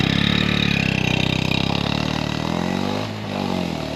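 2025 Honda Grom small motorcycle engine while riding, a buzzy steady drone with a brief dip in revs around a shift before it picks back up, close and continuous with no speech.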